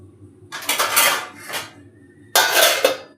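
Metal lids clatter onto two cooking pots in a home kitchen, three bursts of scraping, ringing metal, the last one sudden and loud, close by with quiet between.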